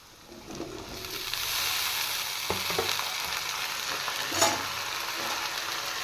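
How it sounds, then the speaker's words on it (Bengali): Onions sizzle and crackle in hot oil along with cut taro stolons (lati), a steady frying hiss with a few sharper clinks of stirring, close and moderately loud with no talk. "পেঁয়াজটা পুরো ফ্রাই করলাম না কারণ লতির সাথে ফ্রাই হবে"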